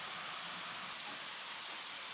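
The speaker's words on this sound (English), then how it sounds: "it's hard to explain how strange it is to see rain. Real rain. Water falling from the sky like it's supposed to." Steady rain falling, a soft continuous hiss of drops with no voices, fairly quiet and even.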